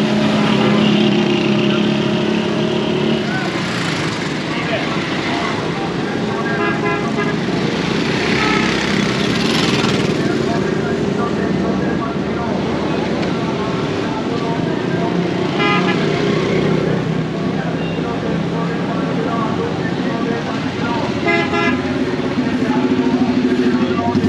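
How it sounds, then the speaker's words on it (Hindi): Heavy road traffic at a busy bus stop in Khanpur, Pakistan, with engines droning steadily and car horns tooting repeatedly throughout, while someone talks over the noise. "ट्रैफिक बहुत ही ज़्यादा है, जिसकी वजह से यहाँ से गुजरने के लिए थोड़ा मुश्किल तो है भाई"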